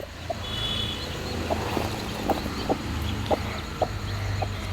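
Chickens cluck in scattered short calls, soft and somewhat distant, over a low steady background hum.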